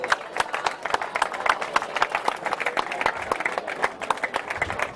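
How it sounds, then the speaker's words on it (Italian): Audience clapping at an amateur football awards gala, many distinct hand claps in a lively uneven rhythm, fairly close and continuous for several seconds. "Villanova, un applauso."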